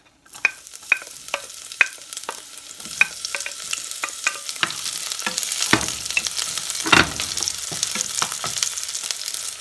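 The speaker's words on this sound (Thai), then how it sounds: "ใส่มันกุ้งลงไปจ้า ตามด้วยกระเทียมแล้วก็หอมใหญ่ด้วยจ้า" Prawn fat, garlic and onion fry in a pan with sharp clicks and taps of stirring at first, then a thickening sizzle that swells and continues without speech.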